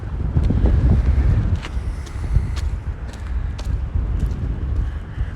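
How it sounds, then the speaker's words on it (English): Cold wind gusting steadily at a windy corner of Victoria Avenue in Regina, a loud, continuous buffeting rumble with a few faint higher clicks mixed in. "Quite a chill wind this morning."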